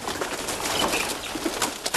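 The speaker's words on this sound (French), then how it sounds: "Une volière a été aménagée dans une grange pour recevoir les pigeons parisiens" Parisian pigeons gather in an aviary set up inside a barn, their soft cooing and occasional wing flaps forming a steady, close murmur of birds with no talk.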